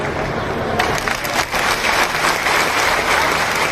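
A large crowd applauds at a public rally addressed by Madhya Pradesh Chief Minister Mohan Yadav, dense, loud clapping sustained throughout with no pauses and no talk over it.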